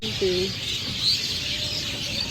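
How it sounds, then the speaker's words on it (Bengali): Birds chirp near the Ganges riverbank at Ranaghat, giving a few short tweets over a steady hiss of outdoor background noise. "পাখিদের কিচিরমিচির আওয়াজ শুনতে পাচ্ছেন"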